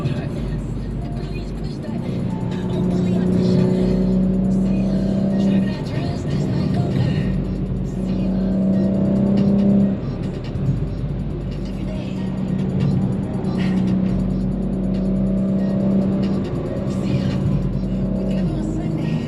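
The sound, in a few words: fast car driving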